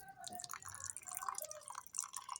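Water is poured and dripped into a homemade mixture in a bowl, giving faint, irregular splashes and trickles over a couple of seconds with no talking.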